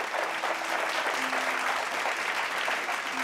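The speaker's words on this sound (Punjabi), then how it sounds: "ਤਾੜੀਆਂ ਜ਼ੋਰਦਾਰ।" An audience at a Punjabi TV show applauds, a steady, dense wash of many hands clapping together at moderate distance, continuing evenly for a few seconds with no voices on top.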